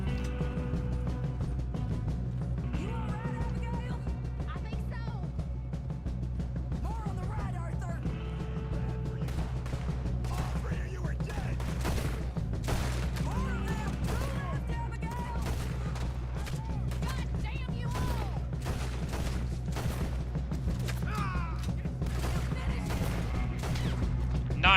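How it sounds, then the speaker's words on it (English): Pistol shots ring out in Red Dead Redemption 2 during a rainy scene, scattered sharp cracks spread across a dense game soundscape of music and ambience, with someone talking over the action. "One hell of a pistol shot there."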